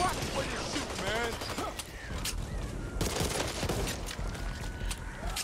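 Gunfire in the co-op zombie shooter Back 4 Blood, dense bursts and sharp reports scattered through busy in-game action, with voices calling out between shots.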